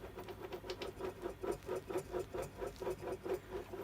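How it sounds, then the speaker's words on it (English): Worn bottom-end bearings in a Stihl BG86c leaf blower turned slowly, giving a faint, close, rhythmic rattling tick that repeats about four times a second and sounds a little like a sewing machine. "You can hear the bearings there."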